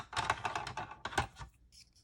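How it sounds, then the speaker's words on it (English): Scissors snip through folded paper for a bow in a series of close, crisp rustling cuts, then a pause and a final short snip, with no voices. "you can fold it in half and cut it"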